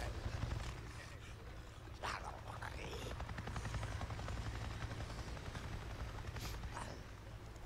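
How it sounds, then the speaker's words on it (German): A Nero helicopter in the video game Days Gone flies overhead, its steady rotor thump and engine drone continuous and fairly distant, with a few faint sharp sounds mixed in. "ich hab grad einen Heli gesehen. Einen Heli? Was? Was erzählst du da? Einen Nero-Heli! Der flog direkt über mir"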